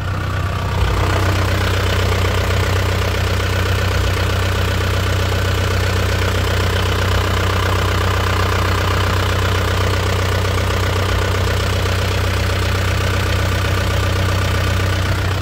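A silver 2001 LS car with a manual gearbox idles steadily up close, its engine holding a constant low hum with an even rhythmic ticking throughout.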